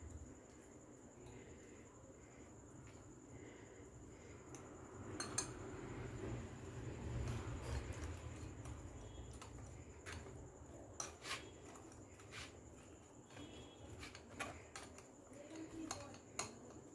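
Prawn shell paste pressed through a metal strainer into a bowl, heard as faint, scattered clinks and light scrapes of a utensil against metal over a quiet kitchen background.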